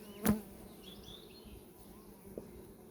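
Honeybees buzz around a brood frame of an open hive, a faint, low steady hum with a sharp knock near the start and a soft tap later.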